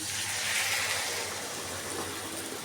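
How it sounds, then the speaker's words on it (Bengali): Water is poured steadily into a pan of simmering potato and pointed gourd curry, giving a soft continuous gushing hiss. "এবারে দিয়ে দেব জল।"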